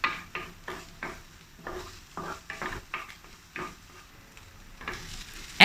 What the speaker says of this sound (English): Saute the garlic and the ginger with some oil over medium heat.